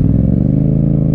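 A Yamaha MT-07 motorcycle idles and pulls away in first gear, its steady low engine rumble close and continuous with no talk over it.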